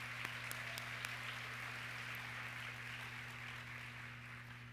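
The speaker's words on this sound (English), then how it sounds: "Let's give another round of applause for Tara." Applause from a luncheon audience at a women's leadership conference, a steady wash of distant clapping over a constant low electrical hum, with no voices.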